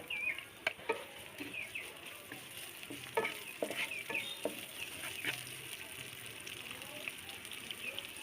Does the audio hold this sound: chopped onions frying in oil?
yes